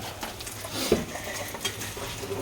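Spiced chicken bhuna fries in a pan with cumin powder and is stirred, a close steady sizzle broken by scraping strokes and a sharp clink of a utensil against the pan.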